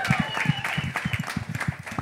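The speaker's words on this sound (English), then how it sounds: "round of applause for Scotty" A crowd gives scattered applause for Scotty, an athlete who took silver with a score of 98. The clapping is loose and uneven, mixed with cheering and crowd voices.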